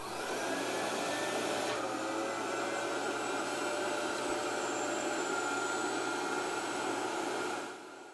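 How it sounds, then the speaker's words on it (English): A vacuum forming machine runs steadily while shaping plastic tray material into a dental bleaching tray, giving a loud, constant broadband whoosh and hum that holds for about eight seconds before cutting off at the end. "Turn on the vacuum and push the clamp down onto the vacuum and leave for 30"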